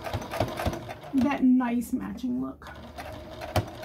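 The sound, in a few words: sewing machine top stitching a Christmas stocking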